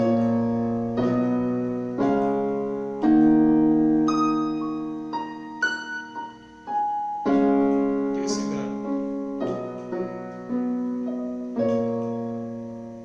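Piano pentatonic scale notes played one at a time in a slow, loose melody, each struck clearly and left to ring before the next.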